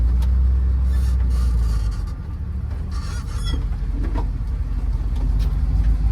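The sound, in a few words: V8 Jeep CJ engine running after starting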